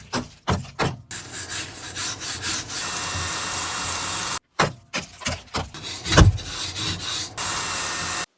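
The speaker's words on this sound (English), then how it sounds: "Sanding, grinding, scraping rust off of the metal structure of the walls." Repeated rough scraping and rasping strokes as rust is scraped off a bus's metal wall structure, close and loud, in bursts with short pauses, then steadier sustained grinding.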